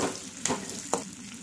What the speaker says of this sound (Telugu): జీలకర్ర ఉల్లిపాయ ముక్కలు ఆ తర్వాత కరివేపాకు వేసిన తర్వాత వీటిని ఉల్లిపాయ ముక్కలు అనేది కొద్దిగా కలర్ వచ్చేంత వరకు వేయించుకుంటున్నాను